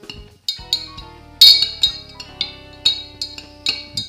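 A spoon stirs a liquid in a glass container while gelatinous finings dissolve into a whisky wash made from malt extract. About eight bright, ringing clinks come at an uneven pace, close and clear, with no talk.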